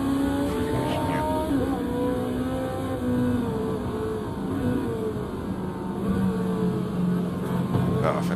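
Race car engines, including a Lexus LFA, in Automobilista 2 at Hockenheim roar continuously, pitch rising and falling through gear changes as cars run close together on track.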